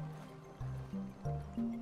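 Water floods a damaged pirate ship in the sailing game Seablip. It comes as quiet, gurgling gushes in short stepped surges, each pour rising slightly in pitch.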